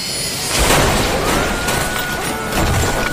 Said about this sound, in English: how could an F-16 fighter jet collide with a residential building?